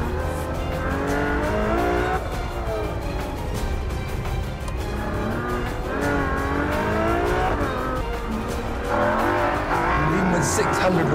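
A Ferrari FF climbs the hairpin corners of an Italian Alpine road, its engine loud and close as it revs and eases through repeated rising and falling gear pulls.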